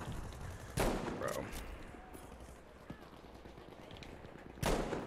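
Gunfire in Battlefield 5 Breakthrough mode: two sharp, loud shots about four seconds apart, with scattered fainter pops and crackles in between under a constant battle background.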